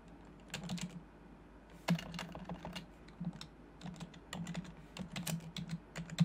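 A computer keyboard is typed on in short irregular runs of crisp, close key clicks, entering a command with brief pauses between bursts in a quiet room.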